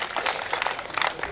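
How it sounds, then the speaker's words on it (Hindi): An audience at a Hindi comic poetry gathering claps together in a dense, even burst of applause that fills the short moment. "अपने सम्मान में एक बार ताली बजाइए।"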